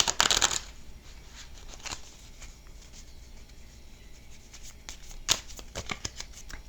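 Tarot cards riffle-shuffled by hand in two loud bursts, a crisp flurry at the start and another near the end, with softer card handling and taps in between and no talking.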